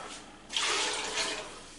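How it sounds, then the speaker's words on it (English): Water pours steadily into a pot for red beans and rice, a soft splashing rush that starts abruptly and continues at close range. "start adding some water to it now"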